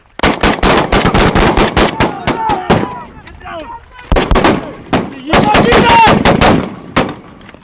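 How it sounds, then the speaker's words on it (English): A machine gun firing blank ammunition during a NATO military exercise, fast rattling bursts close by and loud, broken by short pauses, with shouting voices between the volleys. "they were only firing blank ammunition"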